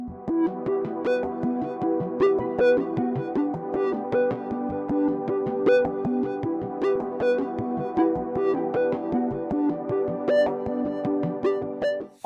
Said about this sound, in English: I chose the driven runner arpeggio sound from Analog Lab to introduce a whole new rhythm to the melody.